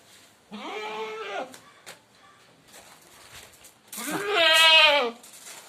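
A Malabari doe goat, pregnant with her second kid, lets out two drawn-out, wavering bleats a few seconds apart, the second louder and higher, close by on a farm with no talking.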